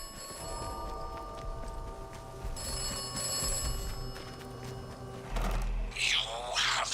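Phone booth ringing in the video game Atomfall, a steady electronic bell tone repeating through ambient game sound, fairly faint, with a louder burst of noise near the end.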